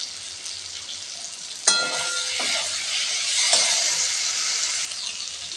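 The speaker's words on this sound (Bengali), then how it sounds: "এবার ঝালের জন্য দিয়ে দিচ্ছি 3টে কাঁচা লঙ্কা ছিঁড়ে।" Torn green chillies hit hot oil in a pan with prawns, a sharp burst of sizzling and frying that settles into a steady, close hiss with some stirring, with no voices.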